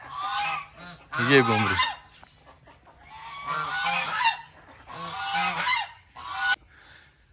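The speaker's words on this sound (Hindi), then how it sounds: "बड़ी बतखें जो है इस साइड पर शोर कर रही हैं" Loud, repeated honking calls from several large ducks come in bursts, close by in a garden, with short quiet gaps between them.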